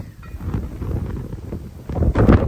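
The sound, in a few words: strong wind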